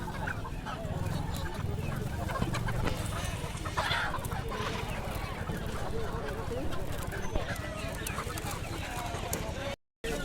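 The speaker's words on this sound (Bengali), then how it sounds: "মুরগি, হাঁস" Chickens and ducks cluck and squawk at a busy market, dense nearby fowl noise under steady crowd chatter and people talking, with a brief dropout near the end.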